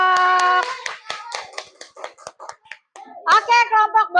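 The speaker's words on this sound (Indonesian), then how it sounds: "Tepuk tangan buat kelompok balok." Children in an Indonesian classroom clap for the block group, a burst of small hands clapping in a rough rhythm, with kids' and a teacher's voices at the start and end.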